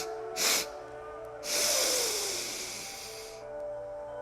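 Sharp nasal sniffs during a guided breathing exercise, one short intake followed by a longer sustained breath, close and breathy with no speech.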